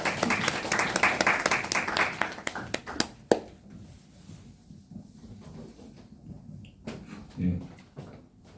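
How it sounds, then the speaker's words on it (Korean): Audience applause welcomes a lecturer at a tax-service civil-service interview prep session, a dense burst of clapping for about three seconds that stops abruptly, followed by quiet room tone with a faint voice near the end. "박수 부탁드릴게요."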